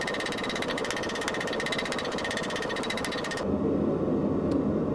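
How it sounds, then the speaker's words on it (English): A competition chopper blade's bevel is forged down with rapid, machine-like hammer blows: a fast, steady pounding for about three and a half seconds that then stops, leaving a low rumble. "Now to do the bevel, so I'm gonna start squishing down this part."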